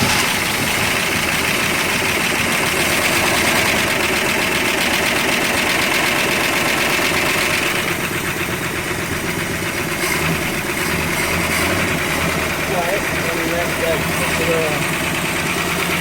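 The engine of a 1966 Plymouth Fury runs on fuel poured into the carburetor, a loud, steady, rough mechanical drone with rattling and knocking that continues throughout.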